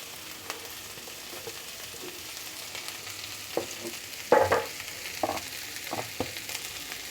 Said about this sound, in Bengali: এখন আমি পেঁয়াজ কোচানোগুলো দিয়ে দিচ্ছি।